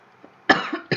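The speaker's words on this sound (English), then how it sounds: "still have a little bit of a cough from a cold" A single harsh cough from someone recovering from a cold, close and abrupt, followed by a shorter second cough burst right after.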